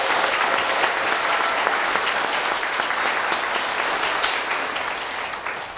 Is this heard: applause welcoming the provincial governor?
yes